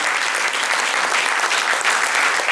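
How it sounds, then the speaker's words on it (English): An audience at a business summit applauds to welcome a government minister, a dense, steady wash of many hands clapping, loud and continuous throughout with no voices on top. "Can we give him a big round of applause?"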